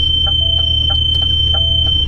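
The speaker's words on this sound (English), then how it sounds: "Sorry about the beeping" Left-side blind spot warning chimes in a car driving through London traffic, a few short, clear electronic beeps in a quick irregular pattern over a steady low engine and road hum.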